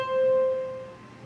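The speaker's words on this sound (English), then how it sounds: "Now we're on treble C, which is this C right here" A single piano note, treble C, struck once and ringing clearly before fading over about a second, with no other sounds around it.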